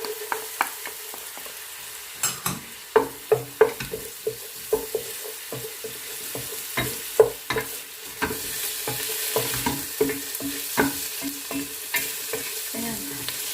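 Garlic and onions sautéing in a pan for goto, an irregular run of clacking spatula strokes against the pan over a steady background sizzle, close and fairly loud, no talk.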